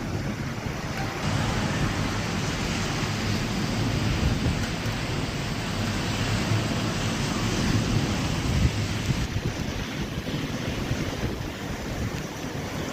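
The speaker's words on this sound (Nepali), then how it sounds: "पानी परिरहेको छ" Rain falling steadily, a dense, loud, unbroken hiss with wind buffeting the microphone, no voices.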